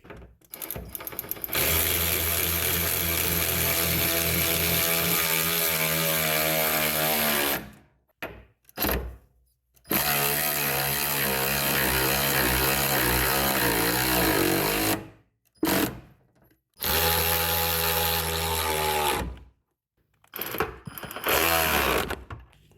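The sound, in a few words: power tool fastening BMW E46 rear axle assembly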